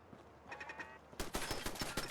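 A burst of video-game gunfire in Fallout: London, aimed at the player: a short first volley, then a dense run of sharp, close shots crackling rapidly over about a second.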